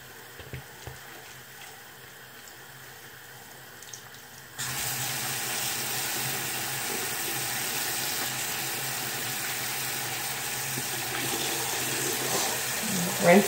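A tap turns on partway through and water runs steadily into a sink for rinsing, a continuous close splashing hiss after a quieter stretch, with faint voice in the background.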